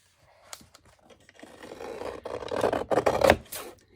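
A paper trimmer slices strips off paper ephemera for a concertina, a close rasping scrape that starts soft with small clicks and builds into a louder grinding cut before stopping.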